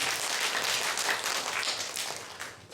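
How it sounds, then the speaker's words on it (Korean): Sustained applause from a church congregation at a healing service, steady and fairly loud throughout before easing slightly near the end, with no speech on top. "박수."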